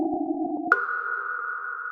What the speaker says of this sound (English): What you're hearing is raw electromagnetic radiation data